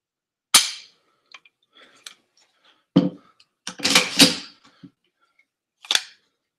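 Crisp mechanical clicks from a CMC Lantac trigger being pulled and reset on a POF .308 rifle, close and isolated, a few sharp snaps spaced irregularly with a denser cluster of clicks in the middle.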